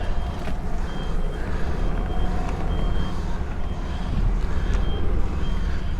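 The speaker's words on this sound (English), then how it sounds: "hopefully push our trailer into this gap where we nosed into" A UK HGV truck backs its trailer into a gap, its reversing alarm beeping steadily at regular intervals over a loud, constant diesel engine rumble in the cab.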